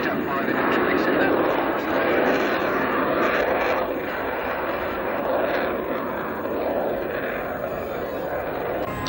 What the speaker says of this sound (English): The giveaway of the light you can see as the aircraft comes in towards us